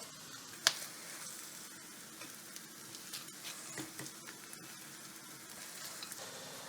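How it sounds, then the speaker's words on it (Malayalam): Crisp fried dried fish is tossed and stirred in a hot pan, a quiet steady sizzle with light scattered clicks of the spoon and one sharper knock near the start, close with no talk. "ഇനി നമ്മൾ നേരത്തെ വറുത്ത് വെച്ച മീനും കൂടിയിലേക്ക് ഇട്ട് കുറച്ച് മീൻ ഇളക്കി കൊടുക്കാം"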